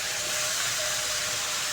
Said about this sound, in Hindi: तो अब इसके अंदर हम डालेंगे शलगम।